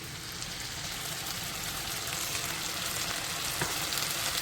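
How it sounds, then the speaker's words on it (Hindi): Prepared sauce goes into a hot pan of chickpeas and vegetables, setting off a dense, even sizzle that stays strong and close throughout without speech. "अब मैं इसके अंदर डालूँगी सॉस जो हमने तैयार किया था"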